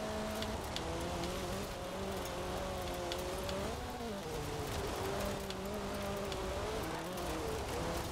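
A car in a racing video game is driven hard with a continuous engine drone that rises and falls in pitch as it revs and shifts. The drone stays steady and loud throughout.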